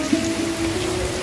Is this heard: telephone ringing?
no